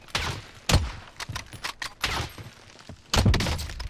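A Cold War AK-47 fires in the video game Call of Duty Warzone, loud sharp shots in short bursts with brief gaps between them, close and with no talk.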